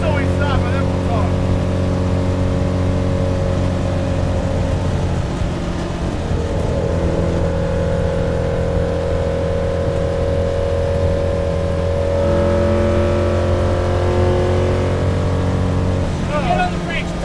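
A 1978 Fiat Abarth 131 'Alitalia' Group 4 rally car heard from inside the cabin, its engine a loud, steady drone that climbs in pitch as it revs, with voices faintly underneath.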